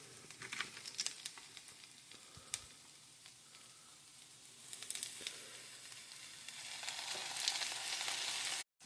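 Onion and garlic fry in a pan for shakshuka, a soft steady sizzle with faint crackles that swells louder toward the end, with no voices.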